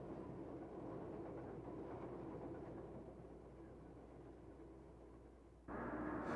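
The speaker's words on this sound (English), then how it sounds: "Another 4-car local with a GG1 approaches, slowing for the bridge over the Susquehanna at the head of the Chesapeake Bay." A GG1 electric locomotive hauling a four-car local train, slowing as it approaches a bridge over the Susquehanna River, with a steady rumbling roll of wheels on rails that swells louder near the end.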